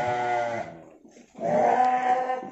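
A goat at a farm gives two loud, close bleats with a short pause between them, the second longer and wavering.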